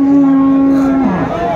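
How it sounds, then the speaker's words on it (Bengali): A cow at a cattle market lets out a single long, loud, close moo that falls in pitch at the end, with only faint voices nearby. "গাভী বাছুর আমরা দেখছিলাম"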